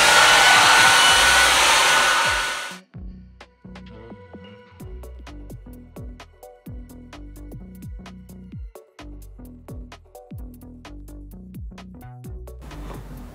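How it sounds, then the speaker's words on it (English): A hair dryer blows with a loud, steady rushing whoosh for about three seconds, then shuts off. Quieter scattered tapping and clicking sounds follow. "let's see the difference of the Dyson hairdryer from the normal hair blower"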